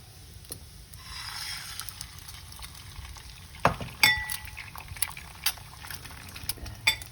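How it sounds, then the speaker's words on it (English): A sunny side up egg frying in a pan for silog, a soft steady sizzle with faint clinks of a utensil and a few sharper taps later on. "We're now cooking the last component of the silog, which is the sunny side up egg"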